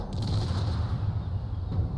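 A loud boom from an explosion in a vehicle video game, involving a Fareon 8x8 Explorer crashing at full speed with damage on, a dense rumbling burst that fills the whole short moment.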